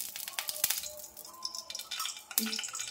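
Mustard oil goes into a hot kadai on a gas stove and sizzles. A spoon clinks and scrapes against the metal pan, with sharp taps over the frying hiss.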